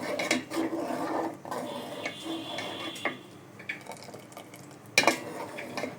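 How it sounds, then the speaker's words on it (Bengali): Custard mixture for kunafa is stirred in a pan with repeated close utensil scrapes and light clinks against the metal, with one sharper knock partway through. "এবার এটা আমি দিয়ে দিচ্ছি এবং এটা খুব ভালো করে নেড়ে নেব"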